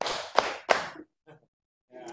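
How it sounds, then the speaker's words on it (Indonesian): An Indonesian school audience claps on command in a group exercise: two sharp, loud, unison claps in quick succession, then a pause, with brief speech before and after. "Tepuk tangan 2 kali."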